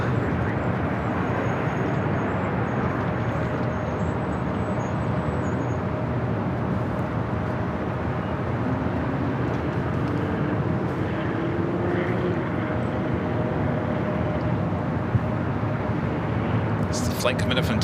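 Airliner arriving at LAX from Tucson, a steady, distant jet rumble that holds evenly throughout, with people talking over it.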